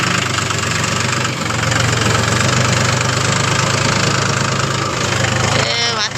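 A tractor engine runs steadily at close range while the tractor is being unloaded, giving a loud, even chugging drone with a faint knocking pulse that stays constant throughout.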